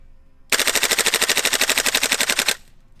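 A Unit 4 CO2 rifle fires fully automatic in one sustained two-second burst of rapid, evenly spaced cracks, loud and close, then stops abruptly.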